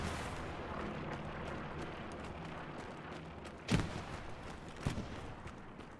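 Grenade blasts in the WWII shooter Hell Let Loose, set in 1944 France: two distant booms a second apart cutting through a steady low rumble of battlefield noise.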